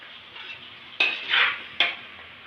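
Pancit noodles cooking in a pan, with a steady soft sizzle broken by two sharp metallic utensil clanks against the pan and a brief scraping stir between them, close by.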